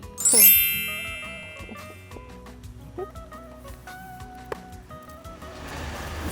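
A bright notification bell ding rings out loudly near the start, followed by a string of softer, shorter chime tones that fade in and out, with no one talking.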